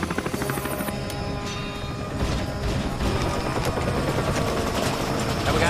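A helicopter with a failing rotor thunders loudly and continuously in a sci-fi action scene, its rhythmic chopping mixed with grinding, ratcheting mechanical clatter and crashes.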